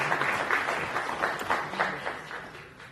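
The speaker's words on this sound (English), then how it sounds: "So big round of applause for them" A lecture audience gives steady, moderately loud applause to honored teachers, with dense overlapping claps continuing for the full three seconds.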